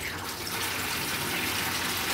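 Cold tap water rushes steadily from a garden hose into a container while filling it for cooling hot beer wort, a loud continuous broadband gush with no talking.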